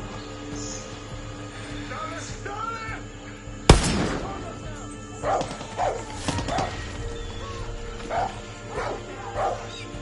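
A dog barks several times in Far Cry 6 gameplay, with short yips scattered through the clip. A sharp loud crack near the start sounds like a gunshot, and other game sounds fill the background.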